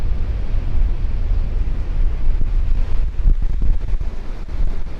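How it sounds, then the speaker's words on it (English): Steady wind roars and buffets the microphone on a hilltop with pine trees, a constant low rumble with gusts rising and falling, no voices. "It is windy out there"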